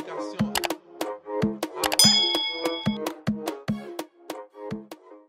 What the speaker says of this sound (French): Appelez cette cloche de notification.